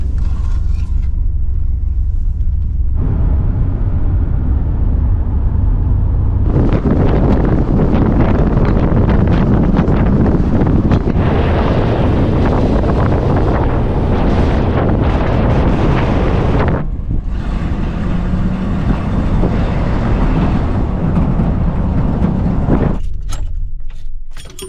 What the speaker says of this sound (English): now I guess the only thing left to do is take it for a drive